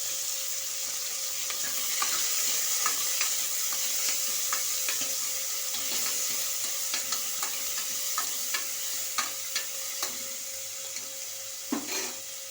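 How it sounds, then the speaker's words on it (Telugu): Green chilies, tomato and onion frying in hot oil, a steady soft sizzle with repeated scraping stirs and light clinks of a utensil against the pan, close and alone. "ఆయిల్ వేడవుతుందండి. ఇప్పుడు పచ్చిమిర్చి, టమోటా, ఆనియన్ వేసేస్తున్నాను."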